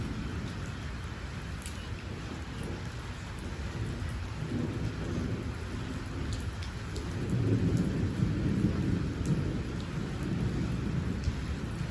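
Steady rain pours down on a farm with a constant hiss, joined by low rumbling thunder that swells partway through.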